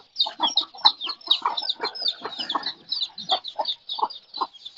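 Chickens cluck nearby in a lively, steady stream of short, clipped calls with no voices, some overlapping and others coming one at a time in a brisk rhythm.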